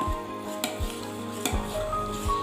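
Fermented broken wheat appam batter being mixed in a vessel, with a few sharp utensil scrapes and knocks against the container over soft wet stirring, close and fairly quiet with no talk.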